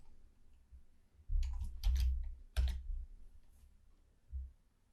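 Computer mouse clicking, a few close clicks and soft taps spaced out in a quiet room, with no talking.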